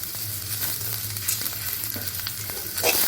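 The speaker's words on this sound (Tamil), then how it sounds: "சோம்பு, பட்டை, கிராம்பு, எல்லாத்தையும் அதில் சேர்த்து நல்லா வதக்கிக்கணும்." Fennel seeds, cinnamon and cloves sauté in hot oil in a pan for raw banana kola urundai, giving a bright, constant sizzle with soft stirring scrapes mixed in. It is close and steady, with no speech.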